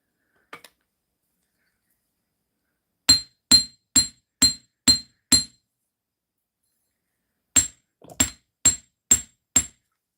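Sharp metallic taps of a hammer flattening a small wire loop for handmade jewellery, a run of six evenly spaced strikes, a pause, then five more, loud and close against near silence.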